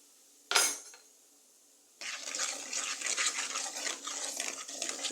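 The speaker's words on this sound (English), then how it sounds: "I'm just gonna pour the remainder of curry in this oil" Leftover curry poured into a pot of hot olive oil for Jamaican curry goat: one sharp clank, a brief pause, then a steady, loud hiss and sizzle that continues to the end, with no talking.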